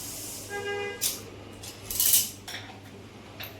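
Scissors snip through folded blouse fabric during tailoring, a few short, crisp cuts spaced about a second apart, close by, with no talking.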